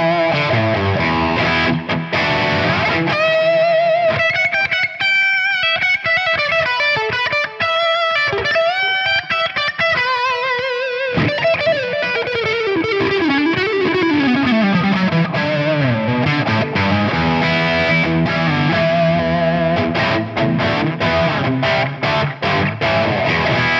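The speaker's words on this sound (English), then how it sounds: "which is going to be channel 3 of this amp with a little bit of delay" Distorted electric guitar played through channel 3 of an amp with echoing delay trails, a steady riff with a descending slide, loud and continuous throughout.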